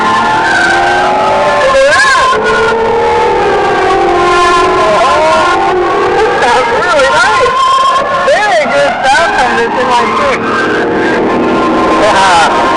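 A car with a 3.3-liter turbocharged inline-six engine drives hard, its loud engine note rising and falling through gear changes and steady throughout, with someone talking over it.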